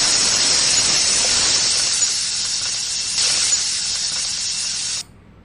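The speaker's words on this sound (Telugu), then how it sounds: "విన్నావా కుక్కర్ సౌండ్?" A pressure cooker whistles in a steady, loud, piercing hiss for about five seconds, then cuts off abruptly, with no voices over it.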